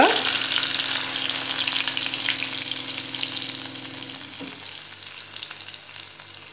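Garlic and asafoetida fry in hot oil as a tempering for dal methi, giving a steady, close, bright sizzle with fine crackles that eases slightly toward the end, with a faint low hum underneath.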